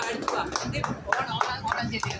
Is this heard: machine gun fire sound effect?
no